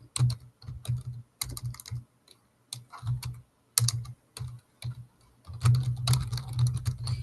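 Bursts of typing on a computer keyboard, close and clear, with short pauses between runs of rapid key clicks and a denser, busier stretch at the end; no talking.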